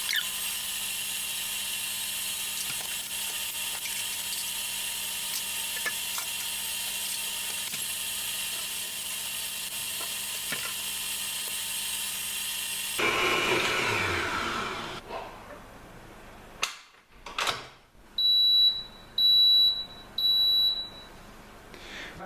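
Cooking Chef Gourmet food processor churning yogurt cake batter with a steady, loud mechanical whir, then stopping abruptly, followed by a few clicks and a series of electronic beeps.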